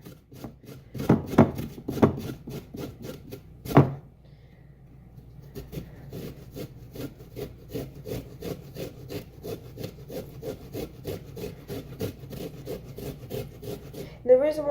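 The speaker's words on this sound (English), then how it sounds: "The reason why I'm grating in the pan is because it's letting off a bunch of juice" Fresh ginger rubbed over a small grater into a pan, a steady run of rhythmic rasping strokes after a few louder scrapes and a knock, close and dry.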